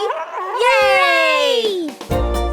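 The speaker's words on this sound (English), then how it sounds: "sea lion must be calling out to its mother." California sea lion pup in a children's animated animal story gives a long, loud, wavering call that slides downward in pitch, followed by a short burst of other sound.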